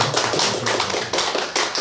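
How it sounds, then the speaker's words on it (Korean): Members of a church congregation clap together during a Sunday worship service, a short burst of brisk, rhythmic, close-sounding hand claps. "이럴 때 박수 쳐서"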